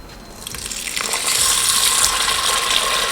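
Uncooked rice being rinsed by hand in water for sushi, a rising close swishing and rattling of grains and gushing water that grows louder and continues steadily.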